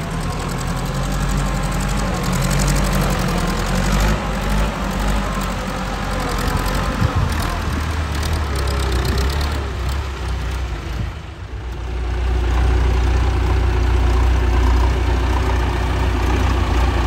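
A Massey Ferguson MF 290 tractor tills a flooded rice paddy, its diesel engine droning loud and steady throughout, with a brief dip in level partway through before the heavy low rumble returns.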